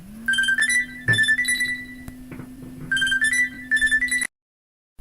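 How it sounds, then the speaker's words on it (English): Mobile phone ringing with a repeating electronic melody in bursts of bright tones over a steady low hum, loud and close, cutting off abruptly near the end. "my phone keeps ringing"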